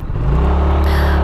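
A class 2A electric scooter pulls away from a standstill with a loud, steady rising whir and rumble, wind and motor noise building quickly.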